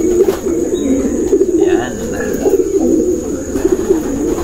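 A racing pigeon ready to breed coos steadily in low, rolling, repeated phrases, close and fairly loud, with a brief word spoken over it.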